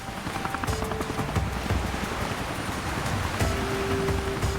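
A rescue helicopter hovers low over a beach, its rotor thudding close and loud in a steady wash of noise with no voices.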